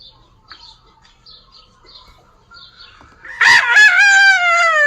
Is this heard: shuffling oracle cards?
no